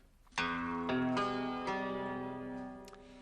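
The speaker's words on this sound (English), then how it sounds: "That is a cimbalom, a Hungarian hammered dulcimer." Bright hammered strings ring out in a few struck notes, each chiming and sustaining with a shimmering decay, quiet and alone.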